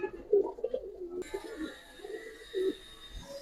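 Pigeons cooing in a loft, a few soft low throaty coos in short bursts, near but quiet against a faint background hiss, with no speech.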